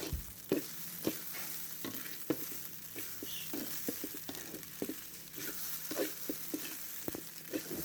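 Rice frying in a pan for Filipino fried rice (sinangag), a soft continuous sizzle broken by repeated scraping strokes of a spatula stirring at an uneven pace, close and fairly quiet.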